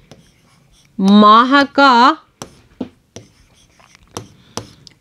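Someone writes on a board during a Hindi-language class, leaving short scratchy taps and strokes after a brief spoken phrase.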